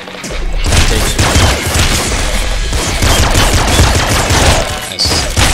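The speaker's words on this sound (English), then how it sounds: "There's a minigun." Minigun firing in the video game Nuclear Throne, a dense, continuous stream of rapid gunfire and booming impacts that stays loud for several seconds with a brief break near the end.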